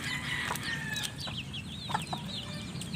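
Parawakan chickens cluck in a farmyard along with other fowl, several short, bright calls rising over a steady low background hum, fairly close and continuous.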